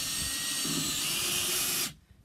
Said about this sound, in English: So we're just going to do a little pre-drill here with a fatter.